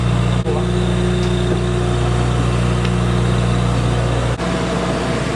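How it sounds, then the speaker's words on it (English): An RV generator runs roughly with a steady mid-pitched engine drone. It sputters and dips briefly twice, then resumes its constant hum. "You hear the generator starting to puke."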